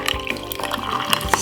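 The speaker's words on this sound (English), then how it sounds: "And now I'm gonna just simply pour it in like this." A broccoli, ginger and lemon drink is poured over ice in a glass, giving a close, gurgling trickle with small clinks and splashes.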